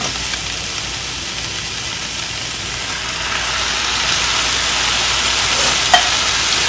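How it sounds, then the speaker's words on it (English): A chicken and Rotel mixture for nachos is stirred in a skillet, producing a steady, fairly loud hiss and sizzle with faint scraping and one sharp clink near the end, with no talking. "I'm going to turn the heat off the skillet and just get this mixed together really well."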